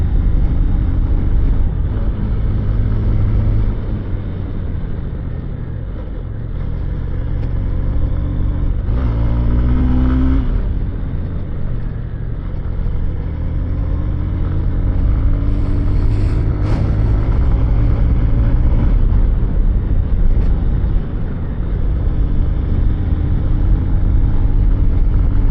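A vehicle engine drones steadily as it climbs the Horsley Hills road, loud and close. It keeps up a continuous low rumble with slight rises and falls and a brief shift in tone partway through, and no one speaks.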